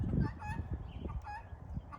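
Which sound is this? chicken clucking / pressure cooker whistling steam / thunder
chicken clucking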